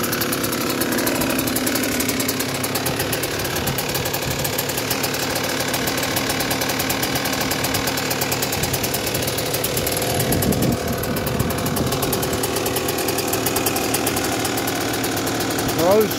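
A 2008 Kawasaki KX125 two-stroke motocross bike engine runs steadily for the whole stretch, a continuous close mechanical drone with some rough knocking texture and no clear revving swells.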